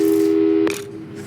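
A telephone busy signal in the video game Portal 2: a steady, loud electronic tone that cuts off abruptly after about two-thirds of a second, followed by a brief click and quieter residue.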